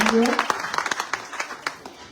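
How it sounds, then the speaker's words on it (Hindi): Scattered applause at a live Christmas church service for a children's welcoming dance, with a few sharp hand claps rising after a voice fades, loose and uneven rather than a full ovation. "तो इनके लिए भी जोरदार तालियां हो जाए, बच्चों के लिए"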